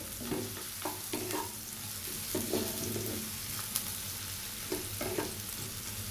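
Garlic and onion frying in a pan, a soft steady sizzle with faint scrapes of stirring, fairly quiet and close, with no talking.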